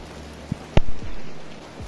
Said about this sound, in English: It is raining just as we got the fire set up,